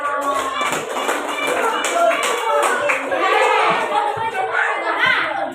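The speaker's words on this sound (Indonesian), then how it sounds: "tepuk tangan untuk kelompok" A group of schoolchildren and their teacher clap in a classroom to applaud a student group, a burst of close, brisk hand claps mixed with voices talking over it.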